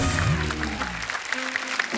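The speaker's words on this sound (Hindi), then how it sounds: "एक बार जोरदार तालियां हो जाए" Studio audience applause on a comedy show stage, a dense, continuous wash of clapping with music fading out beneath at the start.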